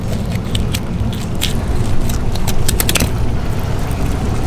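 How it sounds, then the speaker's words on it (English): A fillet knife scraping along the backbone of a large African pompano during cleaning, a steady close-up rasping and crackling texture with brief clicking ticks, with no talk over it. "That's the sound of my knife running along the bone."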